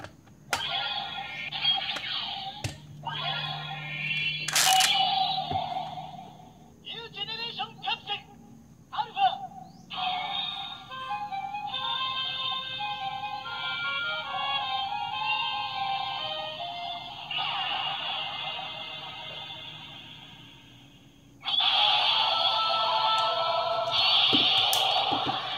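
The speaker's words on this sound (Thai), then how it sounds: "เป็นเสียงแปลงร่างของออฟออริจินกับกิงกะนั่นเองนะครับ" A DX Geed Riser Ultraman transformation toy plays the Orb Origin and Ginga transformation effects: a series of electronic chirps, beeps and synthesized chimes, ending in a louder sustained burst of sound.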